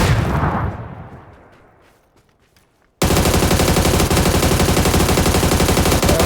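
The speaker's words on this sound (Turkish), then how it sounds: "Bomba geldi. Bomba attı." A grenade exploding in the video game PUBG, a loud blast whose rumble fades over a couple of seconds, followed by a sudden, sustained wall of dense gunfire noise.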